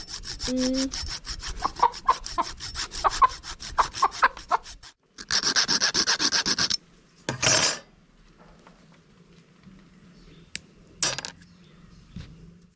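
Rasping, sawing strokes from cutting an old rooster's leg spur, a rapid run of short scrapes followed by a denser burst, then a few scattered clicks and rubs. The sound is close and moderately loud, with no speech.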